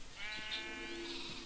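Sheep in the Minecraft video game bleat in one drawn-out, wavering call with a steady level and no speech over it.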